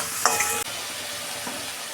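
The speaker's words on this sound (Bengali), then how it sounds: "আমি আদা রসুনের পেস্ট দিচ্ছি। দু মিনিট কষাবো আমি।" Onion with ginger-garlic paste sizzling in a pan as it is stirred, with a few clattering utensil scrapes early on, then an even frying hiss.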